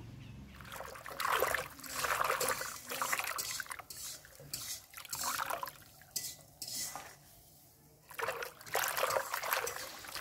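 Fresh-picked spinach being swished and rinsed by hand in a bucket of water, repeated sloshing and splashing surges with brief quieter pauses between, close and moderately loud, no talking.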